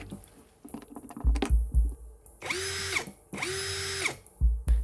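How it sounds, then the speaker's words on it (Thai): An OSUKA cordless drill bores into thick wood, nearly 5 cm deep. It gives two sustained whining bursts, each about a second long, separated by thuds and handling clatter, loud and close. "ก็สามารถเจาะไม้หนาๆ เกือบ 5 เซนติเมตรได้สบายมากครับ"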